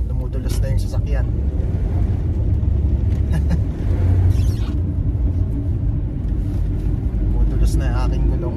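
A car drives along a snowy, icy road in Quebec, tires slipping, with a low, steady engine rumble and road noise throughout. A person talks over it at times.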